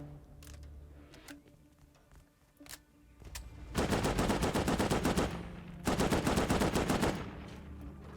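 Gunfire in the survival game Rust, with scattered single shots first, then two long bursts of rapid automatic fire that sound fairly loud and close, without talk.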